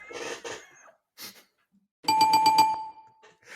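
A bell-like chime effect rings out in a quick rhythmic run of tones with a sustained ding, heard near and clear after brief breathy noises and silence.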